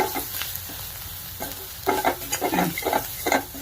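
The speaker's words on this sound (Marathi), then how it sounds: "आता हे सगळे मसाले व्यवस्थित परतून घेऊया" Spices sauté in a pan with salt for a chakolya recipe under a soft, constant sizzle, while a spoon scrapes and stirs in quick, close strokes that grow busier in the second half.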